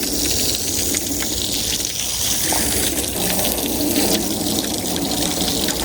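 Water gushes and splashes steadily over a Swaraj tractor being washed at home, a loud, continuous spray with no break across the stretch.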